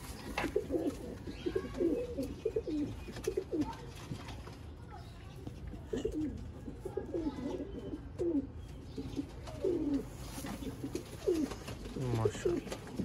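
Teddy pigeons in a breeder's loft, cooing in repeated soft, throaty bursts close by, while someone speaks over them almost throughout.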